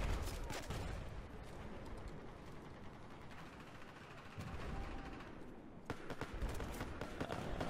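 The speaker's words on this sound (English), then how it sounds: "someone's shooting at us" Gunfire in Battlefield 4 multiplayer: dense bursts of shots and clattering mechanical noise run throughout at steady loudness, with sharp cracks clustering near the start and again near the end.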